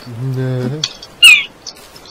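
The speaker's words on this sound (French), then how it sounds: "Oh oui, la mouette. La mouette, hein." A seagull cry from the video game The Forest: a short, loud, high squawk heard alone, following an earlier low tonal call.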